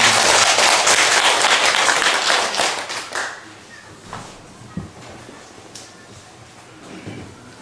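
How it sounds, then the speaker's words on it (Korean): Church congregation applauding loudly for about three seconds, then the clapping thins into a few scattered, isolated claps and quiet room sound. "박수로 주께 영광을 돌리겠습니다."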